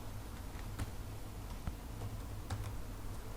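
Typing a password for an email ID on a computer keyboard: a handful of light, irregular key taps over a low steady hum, fairly close and quiet.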